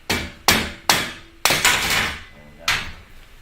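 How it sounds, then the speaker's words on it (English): A mallet knocks a platform bed rail apart with sharp, close wooden whacks, five or six hard blows in an uneven rhythm, each ringing briefly before fading, with no voices. "All you gotta do is just barely tap it, man. Especially if you got a mallet or a hammer."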